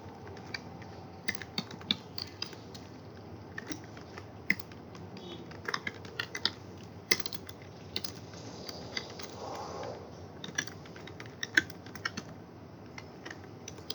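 Code, a list of numbers in square brackets, being typed on a computer keyboard: scattered light key clicks in short bursts and pauses over a faint steady room hum, close, no talking.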